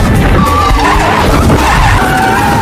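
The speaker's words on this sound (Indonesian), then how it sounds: "Sonny sukses merusak mobil F1 yang harga satu mobilnya bisa mencapai ratusan miliar rupiah." An F1 race car skidding during a race, a loud, continuous tire screech with rough engine and track noise running throughout, close and unbroken with no talk.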